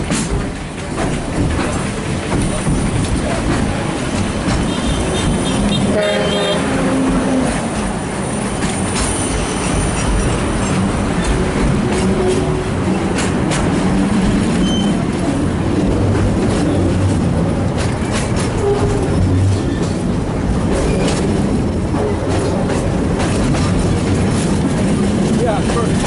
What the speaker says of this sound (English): Here it goes, turning the train.